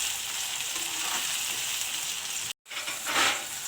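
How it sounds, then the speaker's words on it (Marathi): Tomato and capsicum frying in a wok with a steady, close, hissing sizzle that runs without a break, cuts out for a moment, then comes back a little louder. "टॅमॅटो आणि शिमला मिरची चांगलं फ्राय होऊन द्यायचं."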